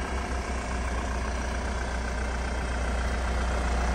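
A 2018 diesel Hyundai Grand Starex with the 2.5 engine and all-wheel drive idles with a steady, low, even rumble, close and unbroken, with no talk.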